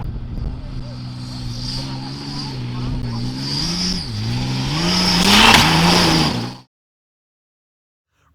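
A Toyota Hilux rally truck engine revs hard and close, its pitch rising and dipping as it strains, swelling louder before stopping abruptly into silence.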